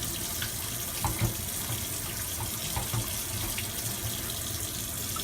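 Raw chicken rinsed in a sink under a steady stream of running tap water, a continuous close splashing and trickling with no talk.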